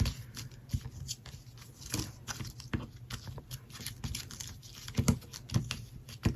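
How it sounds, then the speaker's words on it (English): Magazine paper is scrunched and crinkled by hand while making a junk journal, giving close, irregular crackling bursts and rustles. "Scrunch it up on the paper."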